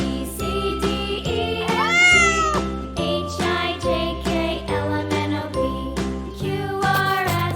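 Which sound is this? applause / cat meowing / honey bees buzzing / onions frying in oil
cat meowing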